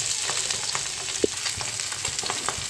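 Pabda fish fry in oil with a close, steady crackling sizzle, broken by a few small pops and one brief sharp knock of a utensil.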